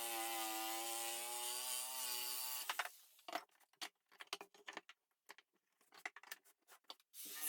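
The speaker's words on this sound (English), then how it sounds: "I pulled out the my jigsaw, and it did the trick pretty good" A jigsaw cutting wood for a cutting board, a steady high-pitched buzzing whine for almost three seconds, then a run of fast, irregular rasping strokes and clicks, close and fairly quiet.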